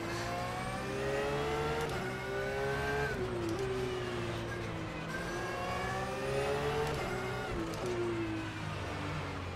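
A Porsche race car engine in a racing video game revs and shifts through gears in repeated rising climbs, loud and continuous, with faint tire squeal.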